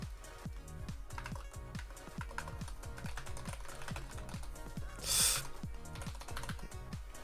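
Computer keyboard typing heard up close as a steady run of quick key clicks at an even pace, with no talk over it.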